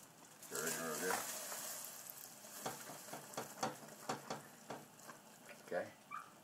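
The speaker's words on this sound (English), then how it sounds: "Stir it in real good." Peanut brittle candy in a pan as vanilla is stirred in, a soft sizzle with scattered scraping and tapping of the spoon at an irregular pace, close and fairly quiet.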